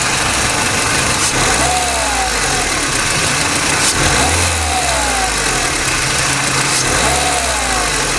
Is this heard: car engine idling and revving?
yes